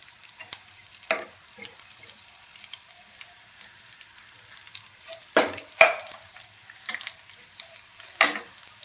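Asafoetida and onions frying in a pan for a pumpkin curry, a low soft sizzle broken by several sharp scraping stirs and clatters, with no one talking.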